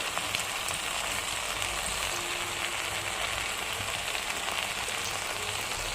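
Brinjal pieces cook in a pan with a pinch of turmeric and coarse salt, giving a steady, even frying sizzle with a soft hiss that holds throughout, with no voices.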